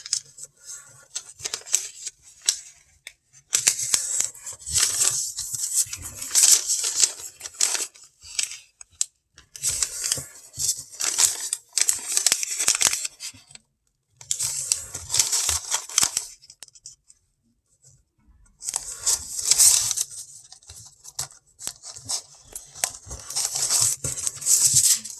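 Sheet of paper being folded repeatedly into sixteenths, with bursts of crisp crinkling, creasing and rustling separated by brief quiet pauses, close and fairly loud, no talk.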